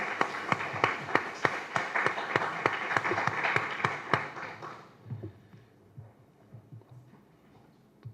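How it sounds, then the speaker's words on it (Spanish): A crowd applauds steadily for several seconds, then the clapping thins out into a few scattered claps and fades away. "Un fuerte aplauso, por favor,"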